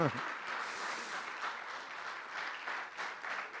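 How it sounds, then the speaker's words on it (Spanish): A church congregation applauds during a sermon, a soft, fairly distant wash of clapping that swells and dips unevenly and carries on steadily after a brief voice at the very start. "Ahora sí, valió la pena hoy el aplauso"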